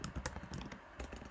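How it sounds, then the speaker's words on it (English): Rapid typing on a computer keyboard, a dense run of quick clicking keystrokes heard close but at low volume, with no speech. "Dang it, typing."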